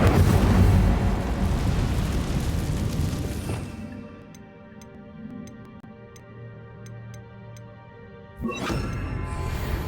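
A fire spell ignites spiders in Hogwarts Legacy, a loud roaring burst of flame and crackling that fades to quiet ticking embers, then flares again near the end.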